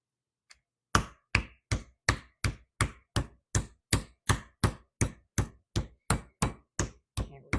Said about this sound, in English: hammer out both sides because that's going to make it nice and tender